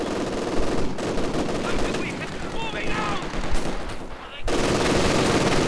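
Rapid bursts of machine-gun and rifle fire crackle through a Company of Heroes 2 battle, dense and continuous with a brief lull before the shooting surges back loud.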